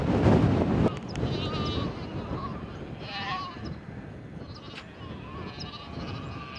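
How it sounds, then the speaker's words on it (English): Sheep bleat repeatedly on a steep hillside of hill lambs, several calls at middle distance over steady wind noise and rustling, with a loud gust at the start. "These are Carl's sheep here"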